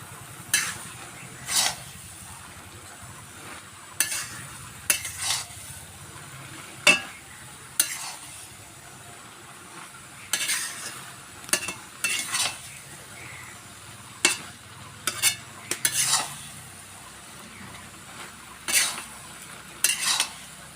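Black taro (kalo kochu) cooked village style in a pot is stirred again after uncovering, with repeated scraping strokes and spoon clinks against the pot at an uneven rhythm over a low sizzle, close by, with no talking.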